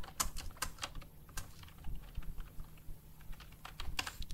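Typing a paragraph on a computer keyboard: quick, irregular bursts of close, crisp key clicks with brief pauses between runs, heard alone without talk.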